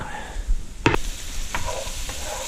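Mushrooms and onions sautéing for a smoked mushroom soup: a soft, steady sizzle in the pan, broken by a couple of sharp stirring scrapes and clicks, close and moderate, with no talking.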